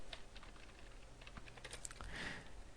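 Code being typed on a computer keyboard during C programming: a quiet, steady run of light key clicks with no talking.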